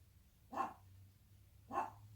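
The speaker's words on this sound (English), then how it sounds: "Sorry about the dog in the background." A dog barks twice in the background, the short barks about a second apart, faint and distant in an otherwise quiet room with no talking.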